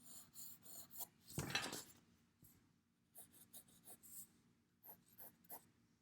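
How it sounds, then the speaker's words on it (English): Pencil drags across paper in short soft scratchy strokes while a horizontal line is drawn for a one-point perspective sketch, with one louder rasping stroke near the start; quiet and close. "we just need to draw horizontal line here."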